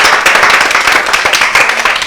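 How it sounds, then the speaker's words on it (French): Audience applause at a French-language live speaker show, a brief burst of many hands clapping in a dense, fairly loud patter. "Est-ce qu'on peut applaudir pour tout le monde, s'il vous plaît?"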